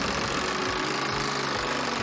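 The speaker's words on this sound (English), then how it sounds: "Give the wheel a good spin." On the Wheel of Fortune television game show, the big prize wheel spins with a rhythmic ticking of its pegs, about two clicks a second, over steady studio crowd noise.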